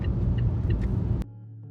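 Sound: car driving on a road in dense fog

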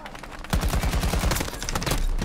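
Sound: gunfire from a gun in the video game Battlefield 2042

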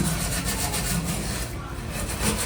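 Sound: scrubbing grime off a gas stove

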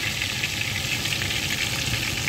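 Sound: spring onions frying in a pan

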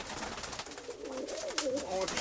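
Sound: pigeon cooing in a dovecote

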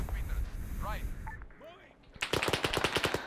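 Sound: gunfire exchanged in firefight, from video game Arma 3

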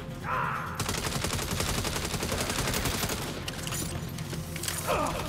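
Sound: gunfire from a pistol in the video game Saints Row

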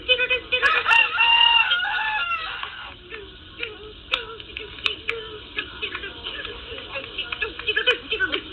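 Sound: rooster crowing

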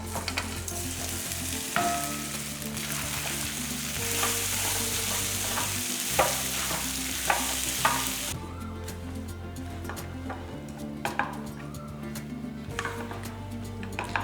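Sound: stirring rice into fried tamarind thokku in pan

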